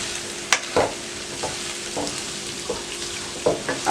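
Chicken tikka pieces fry in a pan while a spoon stirs them quickly, giving scraping strokes over a steady close sizzle with no talk.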